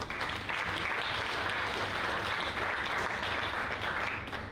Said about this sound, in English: Let's give all these founders a round of applause